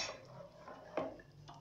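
A ladle is lifted and knocks against a pan while crêpe batter is being mixed, giving one sharp metallic clink amid soft scraping and kitchen rustle, faint and close with no talking.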